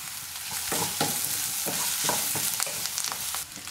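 Onion, crushed ginger and garlic frying in oil, stirred in a pan for a roasted-coconut chicken curry; a constant sizzle broken by repeated scraping strokes of the spoon at a quick, uneven pace, close and fairly loud.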